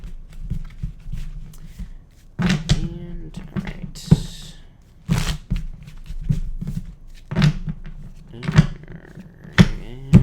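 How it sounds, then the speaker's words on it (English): Tarot cards riffled and shuffled by hand at a table in bursts of crisp, close flicks and slaps, with a voice speaking briefly between them. "Let me shuffle this."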